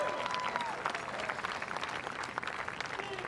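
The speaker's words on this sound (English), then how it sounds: "Ladies and gentlemen, a round of applause for our champions." A crowd applauds the champions at the CrossVegas round of the 2016-17 Telenet UCI Cyclo-cross World Cup in Las Vegas: steady, fairly distant clapping mixed with a faint crowd murmur, continuous throughout.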